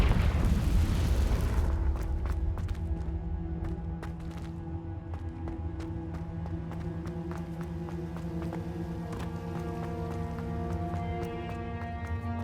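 A Confringo blasting spell in Hogwarts Legacy bursts loudly at the start, then its rumble fades into a sustained low roar with scattered crackles and faint tonal music running underneath.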